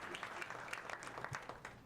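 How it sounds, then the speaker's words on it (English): An audience claps steadily at a meetup pitch event, a dense patter of many hands sustained throughout without pause, moderately loud in a room. "I'm glad you guys got the memo to start clapping at the 60-second mark."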